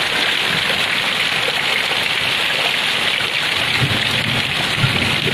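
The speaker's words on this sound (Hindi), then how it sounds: "इतना बारिश हो रहा है, पूरा रात भर हुआ है, अभी भी इतना बारिश हो रहा है।" Heavy overnight rain pours down steadily over a flooding courtyard, a dense, continuous hiss with no break and close, even loudness throughout.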